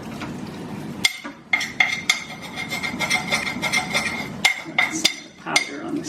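A spoon clinks and scrapes around a pot of lean protein chili soup, giving irregular metallic knocks and clatters over a low bubbling background, loud and close, with no voices.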